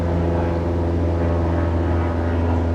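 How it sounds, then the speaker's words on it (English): Steady droning engine and propeller hum of a small white flight-school training airplane flying overhead, continuous and fairly loud with no talk over it. "Look at that airplane out there."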